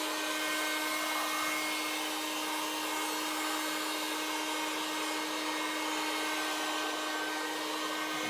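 A heat gun blows hot air over EVA foam in a steady, unbroken whooshing roar with a constant whine, close and continuous, with no talk.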